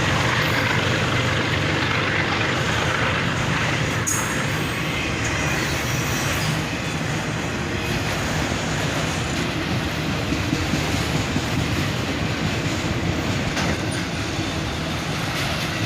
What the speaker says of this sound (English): And we have a second locomotive running mid-train DBU, another ES44 ACH.